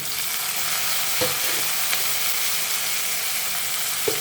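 Onions frying with curry leaves and green chillies in a pan as tomatoes go in, a loud continuous sizzle broken by a few sharp scrapes of a spoon, close up and with no voices.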